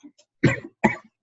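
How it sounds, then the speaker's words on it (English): Two short, harsh allergy coughs close to the mic, separated by a brief pause, with a faint throat noise before them. "I've got this little allergy cough"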